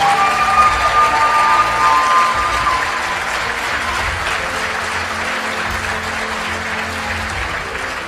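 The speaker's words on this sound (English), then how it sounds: "Give yourselves a round of applause." Steady applause from a large audience, loud and sustained with some cheering and a faint whistle, gradually easing slightly.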